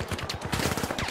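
Rapid automatic gunfire from a weapon in the shooter video game The Finals, a dense burst of close, punchy shots running continuously for about a second with no talk.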